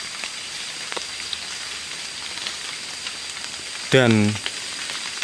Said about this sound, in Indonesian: ini hujan nggak berhenti-berhentinya teman-teman